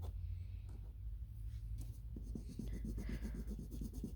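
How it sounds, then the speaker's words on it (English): A marker coloring over crayon on paper for rainbow umbrella art, giving a steady, close scratchy rubbing with short repeated strokes that speed up toward the end, alone with a low background hum. "but that's okay because I'm going to put marker on top"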